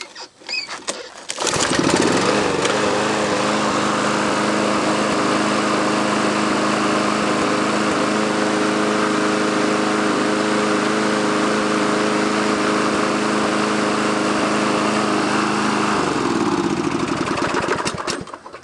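A 1999 Yard Machines MTD 21-inch push mower with a 6 HP Tecumseh engine is pull-started, catches after a brief sputter and runs loud and steady at close range for most of the clip, then winds down at the end.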